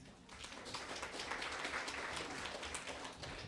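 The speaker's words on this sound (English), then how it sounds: "Let's just clap for everybody." Sustained applause from guests at a high school spring sports banquet in Ste. Genevieve, Missouri, many hands clapping in a dense, even patter at moderate level across the whole moment.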